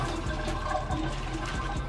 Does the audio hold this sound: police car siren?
no